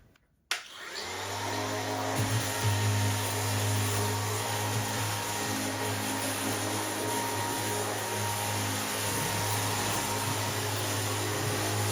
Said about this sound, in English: this sanding machine is actually pretty strong